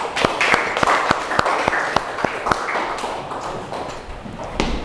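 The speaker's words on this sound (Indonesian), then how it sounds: "tepuk tangan untuk semuanya" Scattered hand claps from a small group of students in a classroom, a few sharp claps standing out over a light patter, fading after a few seconds.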